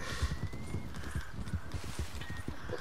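Horse hooves clip-clopping at a steady gallop in the Red Dead video game, with a few whinnies mixed in over the rhythmic footfalls, fairly close and continuous.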